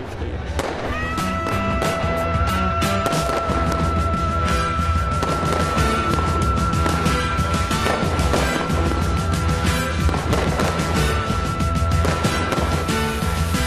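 New Year's Eve fireworks in Berlin crackle and bang continuously at night, a dense, loud barrage of pops and bursts with a few whistling tones rising over the clamor.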